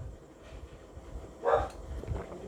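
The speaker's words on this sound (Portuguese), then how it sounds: "O cachorro está latindo pra caramba aqui, mas eu vou continuar." Dog barking nearby, a short muffled bark or two rising briefly over a low, steady room background.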